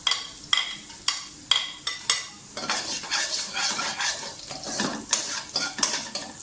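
Chopped garlic fries in a tablespoon of cooking oil for egg fried rice: a few sharp utensil clinks against the pan, then a steady, close sizzle with stirring, no voices.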